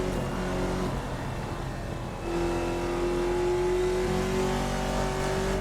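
A modern NASCAR-style Hyperion 2020 stock car engine in Assetto Corsa at California Raceway holds a sustained, steady drone. Its pitch climbs gradually, with no talking over it.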